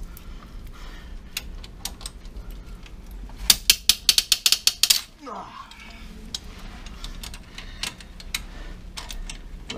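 A torque wrench ratchets in a quick burst of sharp, close clicks while tightening bolts on the 3-cylinder 12-valve engine of a Hyundai HB20 1.0 with a blown head gasket, followed by scattered workshop taps.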